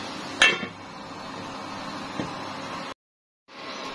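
A lid set down on a cooking pot of prawns and taro stolons, one sharp metallic clink near the start, then a fainter knock, over steady kitchen background noise that briefly cuts out.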